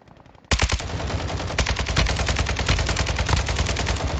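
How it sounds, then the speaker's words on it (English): Rapid automatic gunfire in a shooter video game, bursting in loud and close after a brief quiet start and continuing as dense rattling volleys with scattered sharper single shots. "Back in that building, he's shooting."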